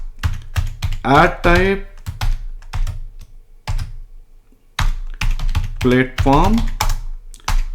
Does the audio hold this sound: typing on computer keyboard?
yes